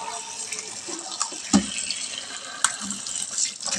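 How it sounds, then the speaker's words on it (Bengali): Vegetables are rubbed and rinsed by hand under a running kitchen tap, with a steady stream of water, splashing, and occasional soft knocks against the sink, close up and without talk. "সবজিগুলোকে আমি ভালো করে এইভাবে ধুয়ে নেবো কচলে কচলে।"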